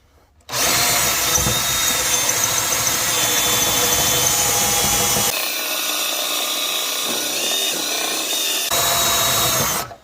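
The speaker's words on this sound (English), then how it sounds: "It drilled right through it." A loud power drill runs continuously, grinding through a 12-gauge metal mirror bracket on a Peterbilt 379 truck, briefly changing pitch and load partway before surging again, then stopping.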